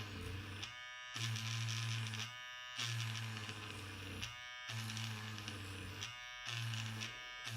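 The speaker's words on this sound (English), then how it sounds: "Now, turn your eraser on and just drag it while it's on across the sandpaper." Battery electric eraser switched on and dragged across sandpaper to shape its tip, making a close, buzzing motor hum in repeated bursts of about a second with short gaps, with no talking.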